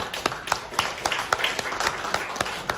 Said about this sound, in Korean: 윤태근 민주노총 위원장 직무대행님, 김동명 한국노총 위원장님께 감사의 큰 박수 부탁드리겠습니다.